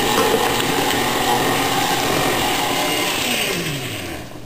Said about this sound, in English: Now I'm going to blend in 7 whole eggs, one at a time, beating really well after each one.